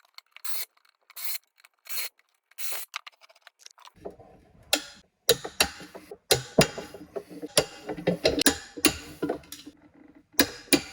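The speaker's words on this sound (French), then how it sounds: "je remets tous les écrous en contact et serrage final à la clé dynamométrique" Wheel nuts on three-piece rims of a BMW E32 V8 are brought into contact and given a final tightening with a torque wrench to 25 Nm, with sharp metallic clicks and ratcheting rubs, sparse at first and then denser and closer.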